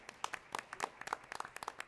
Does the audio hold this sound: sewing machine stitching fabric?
no